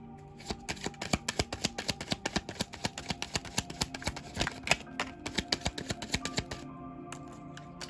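A deck of tarot cards shuffled close by in a steady run of quick, crisp clicks and snaps, a rapid rhythmic patter that holds for several seconds before easing off near the end.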